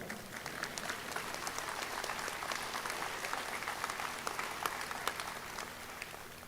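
Audience applause in a hall at a university presidential inauguration for Southeast Missouri State University, a steady, fairly faint wash of many hands clapping that holds evenly throughout without talk.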